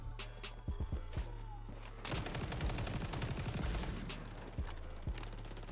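Rapid automatic fire from an ACR rifle in XDefiant, a sustained dense stream of shots in the middle with shorter bursts around it, loud and close, no talking.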